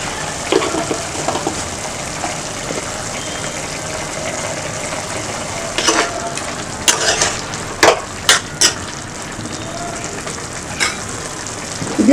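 Mutton sukka frying in a pan with a continuous sizzle, punctuated by several sharp scraping stirs of the spoon against the pan, heard up close with no talking.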